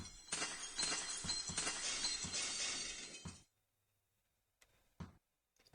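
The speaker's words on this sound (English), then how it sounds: "that is definitely the sound of someone smashing a toilet bowl" Smashing sound effect in the chess game Fritz & Chesster, a sustained shattering crash of breaking glass or ceramic with tinkling shards, then silence and a few faint clicks, heard alone.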